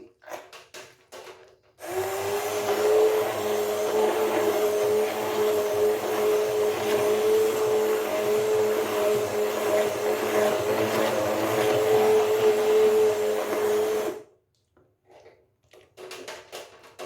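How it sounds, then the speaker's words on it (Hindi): A hand blender whips cream from milk whirring loudly and steadily for about twelve seconds, its motor hum starting and cutting off abruptly, with quiet handling noises before and after. "तो मेरे पास ब्लेंडर है, हैंड ब्लेंडर है, तो मैं उससे कर रही हूँ।"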